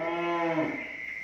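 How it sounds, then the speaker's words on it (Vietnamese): A single loud, close moo from cattle at a farm in Bến Tre, Vietnam, a drawn-out harmonic call that bends downward and fades within about a second. "Bò la lên rồi."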